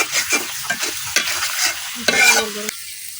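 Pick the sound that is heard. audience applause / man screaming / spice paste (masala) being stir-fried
spice paste (masala) being stir-fried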